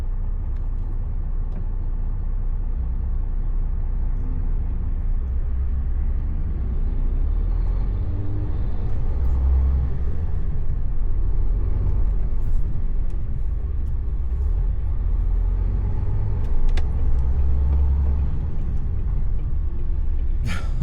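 Traffic sits at a standstill on the M6 motorway, with a steady low rumble of idling trucks and cars heard from inside a cab and occasional hisses of air brakes, continuous and fairly loud.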